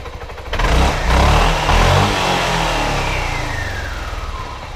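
A Suzuki Burgman scooter engine revs up sharply and accelerates, the note climbing into a loud, strained whine before settling into a steady drone as speed holds, close to the listener.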